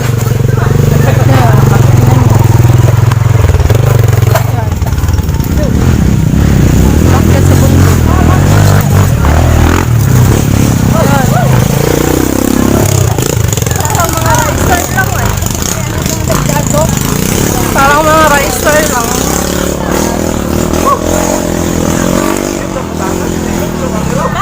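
A motorcycle engine labors up a mountain road, droning and revving continuously under ongoing talk and background noise throughout.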